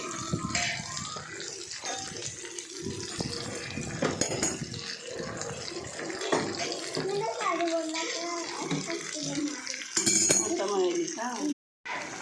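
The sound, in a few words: washing with running water and dishes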